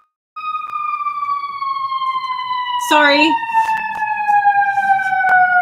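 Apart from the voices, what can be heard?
ambulance siren passing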